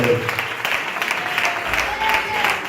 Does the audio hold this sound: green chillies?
no